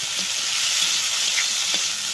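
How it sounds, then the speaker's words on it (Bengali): Fried crab pieces sizzle and hiss steadily in a pan as they are stirred into a masala for a Bengali crab curry, with soft scraping strokes over the continuous frying noise and no voices. "ভাজা কাঁকড়াগুলো দিয়েও ভালোভাবে কষাচ্ছি।"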